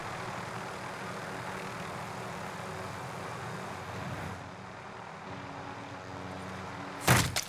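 Helicopter in a Call of Duty multiplayer match, a steady whirring engine drone heard at moderate distance for several seconds, ending with a sudden loud burst near the end.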